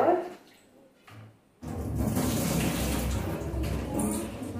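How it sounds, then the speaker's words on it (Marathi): Surmai fish are washed under running water, which starts as a soft splash, goes quiet for a moment, then returns as a strong, steady gush of water pouring close by. "आपण आता धुवून घेऊयात सरंग आता आपण इथे धुवून घेतो"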